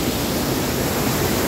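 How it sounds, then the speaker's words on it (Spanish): Waterfall at Cinco Cerros in San Mateo de Otao, Peru, a loud, steady broadband rush of falling water roaring close by, unbroken and without voices. "Miren la cascada"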